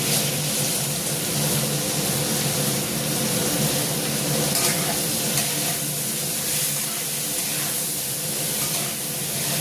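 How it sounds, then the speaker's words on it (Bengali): Vegetables with turmeric and salt fry in a pan, giving a loud, unbroken hissing sizzle that stays even throughout, close by with no speech. "দেখো, দারুণ করে ভেজে নিচ্ছি"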